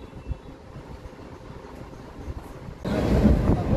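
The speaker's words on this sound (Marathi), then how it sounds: "मी आता ट्रेनमध्ये बसलेलो आहे आणि ट्रेन चालू झालेली आहे" A passenger train gets under way, heard from inside a carriage: a steady low rumble and rattle that swells noticeably louder near the end.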